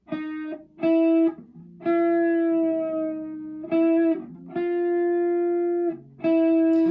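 Distorted electric guitar notes played repeatedly, with slow string bends sliding the pitch upward during several sustained notes, reverb-tinged and fairly loud; no speech.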